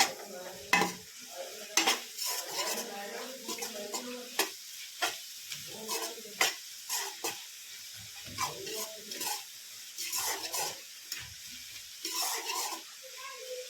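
A tadka of spices fries in a pan as salt and red chili are added, with close, uneven stirring scrapes and clinks over a low, steady sizzle, no voices.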